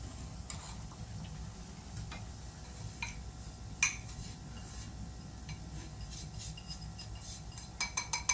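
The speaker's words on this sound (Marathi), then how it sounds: "मी आता हे पीठ आपण भाजून घेतो याच्यामध्ये" Moong flour roasting in ghee in a pan over a medium gas flame: a faint, steady frying hiss beneath soft scraping and ticking stirs of a spoon, with a few sharper clicks near the end.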